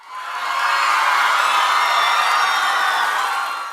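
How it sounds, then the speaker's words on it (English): A theatre audience at a stage play erupts into a loud, sustained roar of cheering and screaming that swells in and holds steady before easing off slightly. "Jamie Campbell Bower comes out and the crowd just goes crazy."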